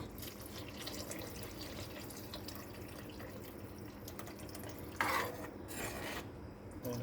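Tamarind water being poured into a pan of fish curry, a soft, steady trickle and splash that keeps running, then a brief louder gush near the end, quiet overall and close by.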